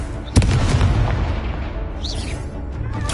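A Confringo fire spell exploding in the video game Hogwarts Legacy: a sharp, loud blast followed by a dense, rumbling wash of combat noise and faint high whooshes.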